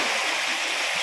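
River water flows and splashes steadily, a close, continuous broadband rush without pauses.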